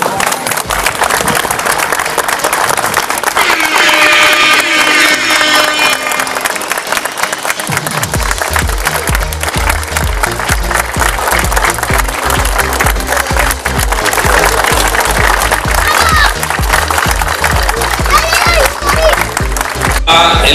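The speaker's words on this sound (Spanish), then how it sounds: "quisiéramos que de pie le dieran un minuto de aplauso" An audience at a basketball tournament stands for a long minute of applause in memory of a friend, a continuous wash of crowd clapping with cheers, under a persistent low rumble and some voices.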